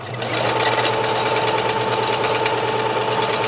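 A sewing machine runs a fancy stitch over lace for fabric ruffles, a loud continuous rapid mechanical whir and hum, close and steady throughout with no talk.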